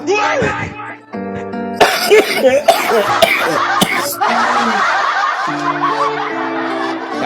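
Coughing bursts break out amid voices and snickering laughter, with a steady musical tone humming in the background.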